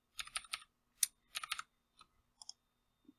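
Arrow keys on a computer keyboard are tapped in quick, quiet clusters of clicks, close to the microphone, with short pauses between bursts.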